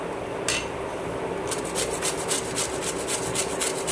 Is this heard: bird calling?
no